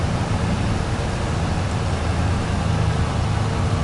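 Steady rain in Farming Simulator 22 during a grass baling session, a dense, even hiss that holds loud and unbroken throughout with no voices.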